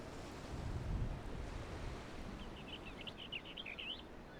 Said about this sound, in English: I love the sound of the birds. Holy shit, I'm getting some Stardew vibes here. Just the waves, the sounds of nature.